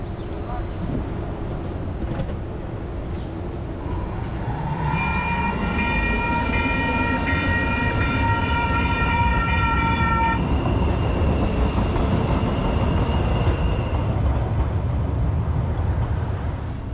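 A California light rail train rolls through the 12th and I station, a steady rumble joined midway by a sustained multi-tone horn or bell, loud and close.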